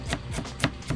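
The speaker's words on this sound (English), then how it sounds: "So right here I'm chopping up a shallot," Knife mincing a shallot on a cutting board while making tartar sauce, heard as a few sharp, close chopping taps spaced through a second, with no talk.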